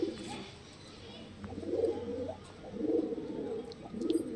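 A pigeon kept for breeding coos in a loft, three soft throaty coos spaced about a second apart, fairly close and quiet against a hushed background.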